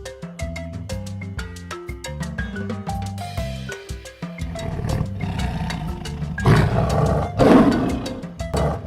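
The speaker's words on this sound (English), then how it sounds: "Lion." A toy lion's roar plays over a loud music backing in a kids' animal-naming setting, with a rough, swelling growl rising above the steady tonal music in the second half.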